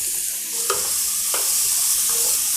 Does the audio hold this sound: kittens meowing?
no